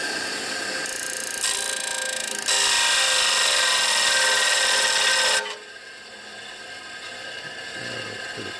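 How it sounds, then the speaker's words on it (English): Grinding on a part of a Harley-Davidson Sportster motorcycle, a loud close abrasive whir that rises in intensity, holds for a few seconds, then drops to a quieter rubbing grind. "Over here to grind it a little bit."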